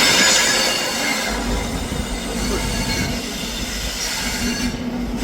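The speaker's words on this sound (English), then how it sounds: "1505 ScotRail service from Aberdeen to Glasgow Queen Street" ScotRail HST power car 43181 on the 1505 Aberdeen to Glasgow Queen Street service rumbles through Perth station, a steady loud engine drone with wheel and rail noise continuing throughout.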